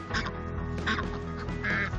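Ducks quack loudly and insistently in several close bursts while crowding geese around a pumpkin, with other fowl noises mixed in and no speech.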